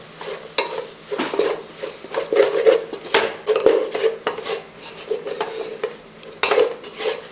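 A spoon scrapes and stirs chicken with pepper and spice powders in a pan, close and rhythmic with soft clinks and a light sizzle underneath, no voices.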